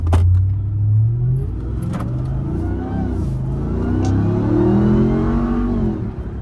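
A 707 hp Dodge Ram TRX truck accelerating hard at full throttle on a German autobahn, its engine roaring loud and close with rising harmonic sweeps as the revs climb through the gears.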